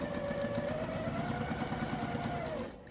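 Domestic sewing machine chain piecing quilt fabric, running at a steady, even pace with a continuous mechanical hum and rapid stitching rhythm, close and clear, winding down at the very end.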